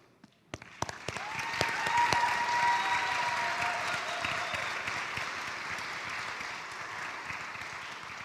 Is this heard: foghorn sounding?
no